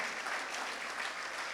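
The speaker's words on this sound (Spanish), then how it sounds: "denle un fuerte aplauso a todos esos papitos" A church congregation clapping for the fathers during a service, a brief dense burst of steady applause heard from within the room.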